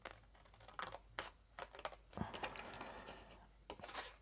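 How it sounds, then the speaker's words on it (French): Scissors snip paper triangles for a small pop-up card, a series of short, close crisp cuts in uneven rhythm with brief pauses, ending in a longer rustling slice. "Je vais couper également les triangles."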